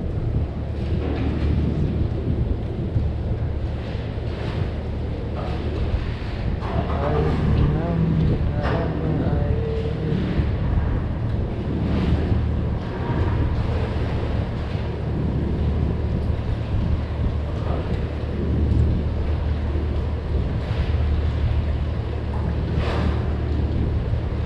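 Boat engine running on open water while underway, with a steady low rumble beneath wind buffeting the microphone and splashing waves throughout; voices talk intermittently over the noise.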